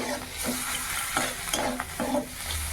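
Grated ginger and spices stirred in a hot pan for spiced mashed potato, a spatula scraping in several distinct strokes over a steady close sizzle.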